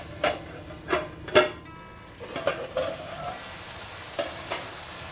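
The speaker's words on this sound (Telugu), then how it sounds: "ఇప్పుడు ఈ దొండకాయ మంచిగా వేగే వరకు మనము మూత పెట్టుకోవాలి, సిమ్ములో పెట్టుకోవాలి స్టవ్." Ivy gourd (dondakaya) frying in a pan over a low flame; a soft, steady sizzle sits under a few sharp clanks and scrapes from stirring, spaced irregularly.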